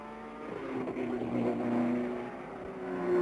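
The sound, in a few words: race cars at 1968 24 Hours of Le Mans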